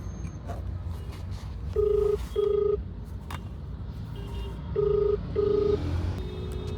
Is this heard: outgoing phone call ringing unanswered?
yes